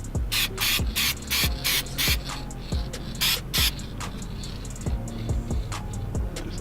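Spray paint being applied to cracked rolled fenders on a Nissan 350Z, heard as a series of short, loud hissing bursts in a steady rhythm with brief pauses between.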